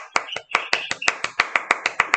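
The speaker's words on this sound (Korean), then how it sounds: "박수, 박수." A classroom of students claps on cue at the end of a lesson, about a dozen sharp, evenly spaced claps in unison, close and crisp.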